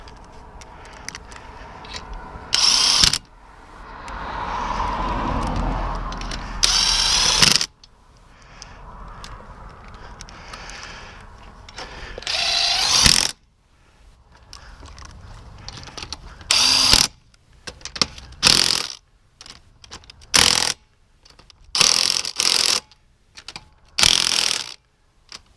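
Ratchet tightening bolts on a Chevrolet Tahoe wheel bearing, sharp bursts of clicking and cranking separated by quiet pauses, close and loud, with short gaps and brief handling noises between turns.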